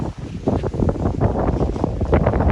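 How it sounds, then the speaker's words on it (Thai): Wind blows hard outdoors near elephants, buffeting the microphone with a loud, rough, continuous roar that swells and dips in gusts, with no voices over it. "เสียงลมนี่"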